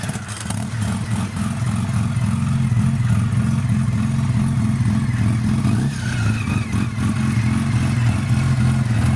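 A 1978 Van Veen OCR 1000 motorcycle with a 1000 cc twin-rotor Comotor rotary engine runs with a smooth, loud mid-pitched drone that rises and falls slightly as it revs.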